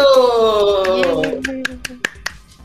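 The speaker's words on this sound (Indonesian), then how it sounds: "tepuk tangan untuk kelompok 1." A short burst of applause for group one in a classroom, a few scattered claps following a person speaking, sharp and close but brief.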